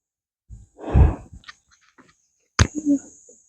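Heavy, breathy exhalations up close, a couple of panting breaths with a short pause between them.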